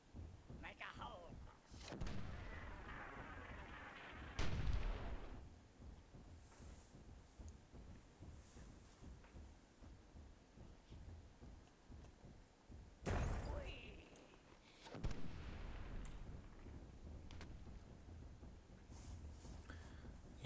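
Dwarven mortar fire in the fantasy strategy game Myth II: Soulblighter lands as two heavy, low thuds several seconds apart, amid a dense wash of battle noise and ongoing talk.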